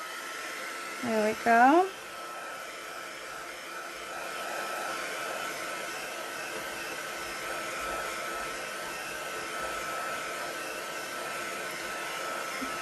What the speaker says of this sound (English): while I've got my heat gun ready